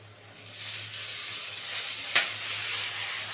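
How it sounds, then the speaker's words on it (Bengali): Ginger and green chili sauté with spices in hot oil for a rohu fish curry, a steady close sizzle that swells after the start, with a single sharp clink of a utensil partway through and no talking. "আদা কাঁচা লঙ্কাটা দিয়ে মশলাটা ভালো করে কষাবো"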